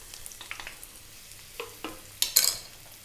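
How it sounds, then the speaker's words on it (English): Onions and garlic frying in olive oil over medium heat, a close sizzle with a series of sharp scraping stirs that grow louder toward the end, no voices. "We're on a medium heat, by the way, so in go the onions."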